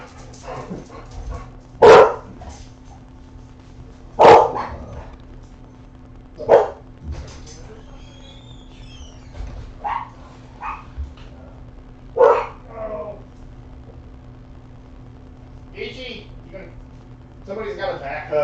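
Dogs bark in sharp, loud bursts roughly every two seconds, with softer yips and whimpers between them, as a person talks over and around the barking indoors near a front door.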